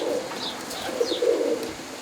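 Roller pigeons coo softly in a loft, with low murmuring calls and a few higher chirps overlapping steadily throughout.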